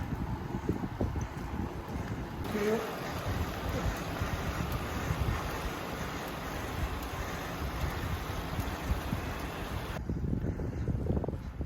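Steady wind noise buffets the microphone during a cycling race climbing Chapman's Peak Drive in South Africa on the Cape Town Cycle Tour, a continuous rushing whoosh with a brief quieter moment near the start.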